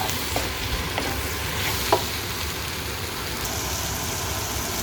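Sweet chili being stirred into Sri Lankan deviled chicken frying in a pan, a steady broadband sizzle with soft scraping stir movements and one brief clink, close and continuous with no talking.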